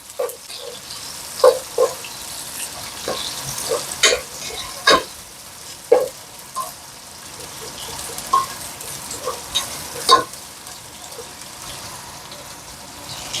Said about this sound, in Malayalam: കടുക് പൊട്ടുന്ന സമയത്ത് നമുക്ക് സവാള ഇട്ട് കൊടുക്കാം. നമുക്ക് ഇളക്കി കൊടുക്കാം.